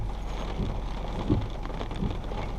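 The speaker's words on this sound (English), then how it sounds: "Yep, here it is. It's pouring." Heavy rain pours steadily during a damaging windstorm in Independence, Missouri, a dense, constant wash of hiss with faint low rumbles beneath, close and unbroken.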